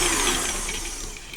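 Butter and sugar being whisked together in a mixing bowl for an orange syrup cake, a steady whirring mechanical drone with a soft rattle, close and continuous, with no one talking.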